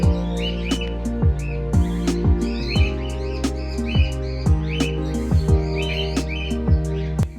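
Cockatiels in breeding cages chirp and whistle, bright repeated calls overlapping with rhythmic low thumps beneath, loud and close throughout.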